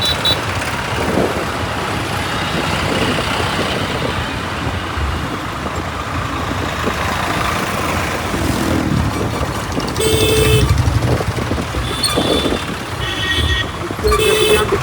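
Tractor engines and traffic at a Punjab farmers' protest tractor rally against land pooling, a dense, steady roar of running vehicles with loud horn toots sounding repeatedly near the end.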